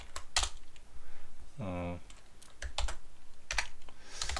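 Keys clatter on a computer keyboard in scattered, crisp clicks and short runs of taps, with a brief voiced sound in the middle.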